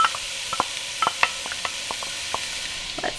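Chopped purple onion hits a hot pan with a soft sizzle, followed by scattered light clicks and scrapes of a utensil moving it around, close and fairly quiet with no talking.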